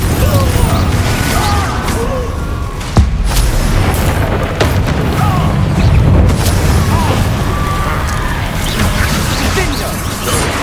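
Confringo fire-blast spells in the video game Hogwarts Legacy go off in loud, repeated booms and crashes layered over constant dense combat noise, with whooshes and impacts throughout.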